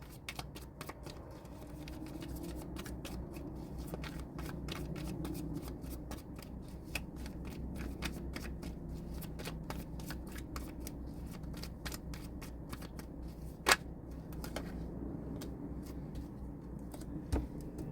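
Tarot cards shuffled by hand in a steady, close riffling rustle that runs for about eighteen seconds, with one sharper snap partway through and no talking.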